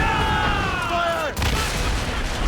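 Ship cannons fire in the naval combat of the video game Assassin's Creed Rogue, a heavy boom over constant sea and wind noise, preceded by a descending whistling tone.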